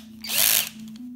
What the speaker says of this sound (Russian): возьмем сверлышко.